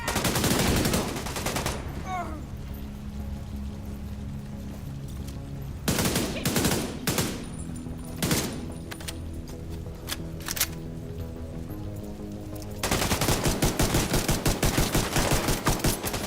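Video game gunfire in a realism-mode shooter: rapid bursts of automatic shots rattle loudly at the start and end, with scattered single and clustered shots in between over low background game sound.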